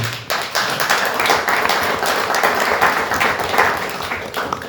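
An audience at a church fellowship event gives a strong round of applause, close, dense clapping with a few sharp individual claps standing out, continuing steadily to the end.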